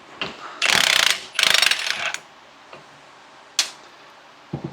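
Ratchet with a 17 mm socket loosening the leveling-kit nut on a Ford F-150, making two close bursts of rapid clicking followed by a few isolated sharp clicks and taps, with no voices.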